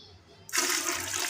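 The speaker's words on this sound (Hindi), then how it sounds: "इसके अंदर पानी डालूंगी।" Water pours steadily into a pot of masoor daal with salt, red chili and coriander powder, beginning abruptly after half a second of near silence and rushing loud and broadband to the end.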